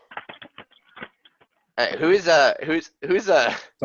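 Quick keyboard keystrokes tap in a short irregular burst from someone's open microphone during an online SQL class, followed by a person talking over the remaining silence.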